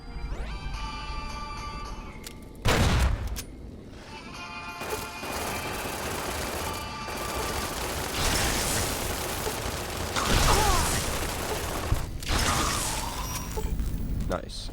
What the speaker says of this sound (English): I'm gonna throw a grenade at them.